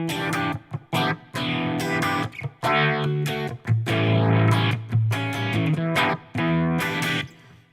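Electric guitar chords and bursts played through a rotary speaker effect, swirling and distorted, close and loud in choppy phrases with gaps between.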